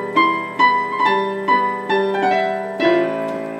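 A piano plays a 1980s-style song with the left-hand octaves left out, giving a sequence of struck chords and melody notes roughly every half second that ring and decay, close and clear.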